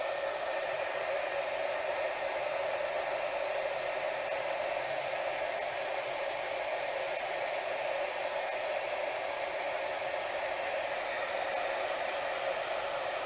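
A heat tool blows steadily while heat-setting embossing ink on paper, giving a continuous, even, fan-like whoosh that holds constant with no pauses and no voices.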